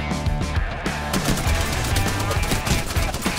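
Spitfire light machine gun fired from the hip in Apex Legends, a dense rapid burst of automatic gunfire running steadily through the whole stretch, loud and close, with no talking over it.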